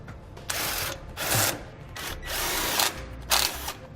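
A power tool whirring in repeated bursts of about half a second as it tightens hose clamps onto a heat shield during an air helper spring install, with ratcheting texture up close.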